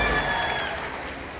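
Crowd applause at an outdoor Van Mahotsav tree-planting ceremony in Chitrakoot attended by a chief minister, a steady, dense clatter of many hands held at an even level throughout with no talk over it.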